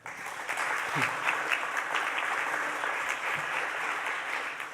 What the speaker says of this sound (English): Give a round of applause for Dr. David Barron.